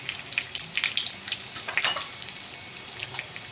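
Cumin and mustard seeds tempering in hot oil for vada pav chutney, a bright crackling sizzle with rapid popping bursts, close and lively.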